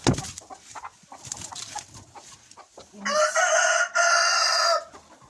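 Hens in a henhouse nest cluck and squawk loudly and close by, with scattered calls building into long, sustained raucous cries near the end.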